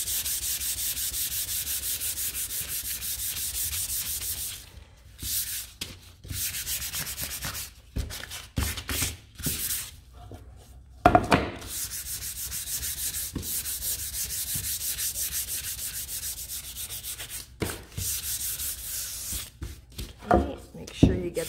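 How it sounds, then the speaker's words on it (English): Sandpaper of 400 grit rubbed back and forth over a stained wooden cutting board with a resin pour, steady close scratchy strokes broken by brief pauses and a few knocks, with some quiet talk in between. "So now we need to give that a sand with your 400 grit sandpaper till it's nice"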